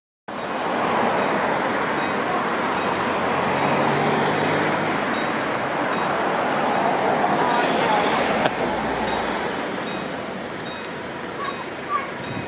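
A train rumbles steadily past a level crossing in Southampton, a loud continuous roar of wheels on rails lasting throughout, with a faint tick near the end.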